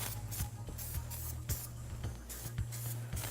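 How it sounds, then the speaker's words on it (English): A spray can of Super Duper 301 non-silicone mold release hisses in a string of short, sharp bursts at a fairly even rhythm, close by and with no talking. "I'm going to take this stuff, which is a super duper 301 non-silicone mold release, and we're going to spray that on here"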